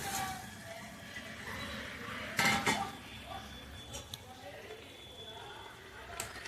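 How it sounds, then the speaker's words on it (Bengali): Pieces of katla fish drop into a boiling curry in a pot, with a sharp metallic clatter of utensil against the pot over a soft background bubble and a faint voice nearby. "এই সময় আমি মাছগুলো ফেলে দেবো ঝোলের মধ্যে।"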